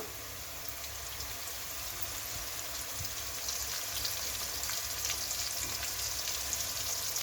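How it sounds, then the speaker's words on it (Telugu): Masala-stuffed brinjals, seasoned with turmeric for a Telangana gutti vankaya curry, fry in hot oil with a steady, close crackling sizzle that swells slightly louder midway, with no talking. "ఈ వంకాయలు మంచిగా నూనెలో వేగాలి"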